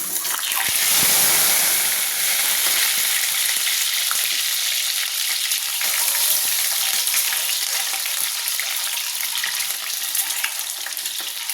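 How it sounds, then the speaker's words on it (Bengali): Eggs fry in hot oil in a kadai with a loud, continuous close-up sizzle and crackle, steady throughout with faint spattering pops. "তেল গরম হয়ে গেছে, ডিমগুলো আমি ভেজে নিচ্ছি।"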